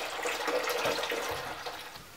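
Coolant splashes and trickles steadily while a corroded, leaking radiator is removed from a Ford Transit van, a continuous close liquid pour that eases off at the end.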